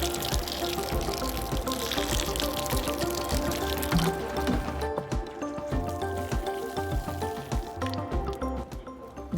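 Water poured gently onto a newly planted tomato plant in a home garden soil bed, a steady splashing pour running throughout at moderate, close range with small drips and trickles, no talking.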